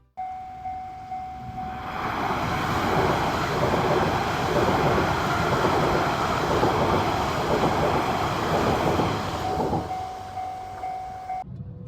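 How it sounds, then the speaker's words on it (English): An Akita Shinkansen train rushes past a level crossing, a loud, sustained rolling roar that swells within a couple of seconds, holds steady and then cuts off. A constant warning-bell tone sounds under it throughout. "we decided to pull in next to a level crossing to watch the Akita Shinkansen roll by"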